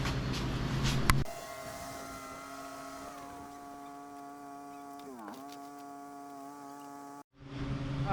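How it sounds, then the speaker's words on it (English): A neighbor's lawn mower drones steadily at a distance, its engine tone fairly faint and even, dipping briefly in pitch once before recovering, bracketed by louder clattering noises at the start and end. "sorry about the noise, the neighbor's mowing, can't control that"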